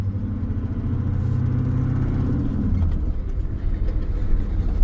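Ford F250 truck engine droning loud and steady from inside the cab as it drives, with a low rumble that shifts pitch partway through as gears change, no talking.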